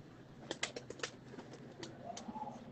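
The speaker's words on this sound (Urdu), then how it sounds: "ایک اور جذباتی سلارا کبوتر آیا" A Salara pigeon coos faintly under a run of close, sharp tapping clicks, with a soft rising-and-falling coo near the end.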